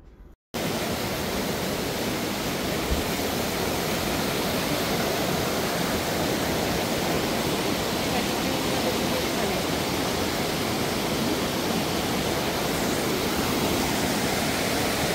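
A shallow river with little water after a dry spell, flowing beside a riverside temple, gives a steady, broadband rushing wash that holds evenly for about fifteen seconds after a brief quiet start, with no voices over it.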